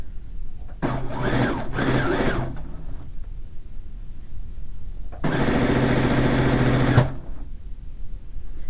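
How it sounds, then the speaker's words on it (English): Domestic sewing machine stitching quilt pieces for a fish-pattern quilt, heard in two short bursts of rapid whirring stitches, then a longer steady run of about two seconds, all close and loud with quiet pauses between. "let's pick up 2 of those and sew them together"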